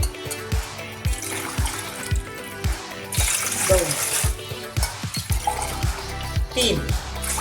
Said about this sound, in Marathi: मी तीन ग्लास पाणी टाकणार आहे